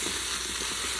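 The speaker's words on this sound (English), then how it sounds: "We're gonna give that a good stir" Japanese-style pork curry with potatoes and carrots sizzling in a hot pan while being stirred, a steady close frying hiss throughout the short moment with no talking.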